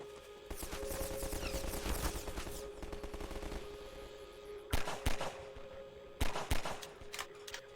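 Gunfire from a weapon in the video game Half-Life 2: a dense, rapid burst of shots for about three seconds, then a lull and several separate loud bangs in pairs, close and sharp over a steady game hum.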